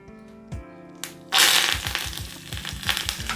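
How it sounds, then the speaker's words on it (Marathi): Curry leaves drop into hot oil for a lentil-and-rice dhokla tempering and burst into loud, crackling spatters. A few quiet knocks come first, then a sudden sizzling eruption with repeated pops continues to the end. "आपलं तेल आता गरम झालेलं आहे आता आपण त्यामध्ये थोडा कढीपत्ता टाकून घेऊया"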